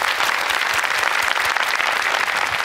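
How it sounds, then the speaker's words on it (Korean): An indoor talk-concert audience applauds steadily, a dense even wash of clapping that is loud and sustained throughout, with no voices over it. "박수 한번 주세요."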